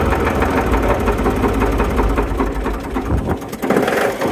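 An old dump truck engine idles steadily after weeks of sitting unused, a loud close rhythmic chugging with a knocking pulse that stumbles briefly toward the end.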